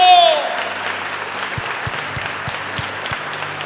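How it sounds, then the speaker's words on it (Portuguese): Church congregation applauding steadily, a dense, close wash of clapping that fills the whole moment after a brief opening tone. "Vamos aplaudir a Deus por ter ressuscitado a Jesus Cristo."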